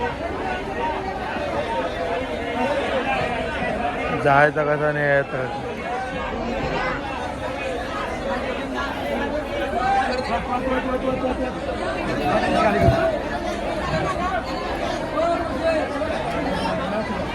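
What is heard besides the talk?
crowd chatter at Bhaucha Dhakka fish market, Mumbai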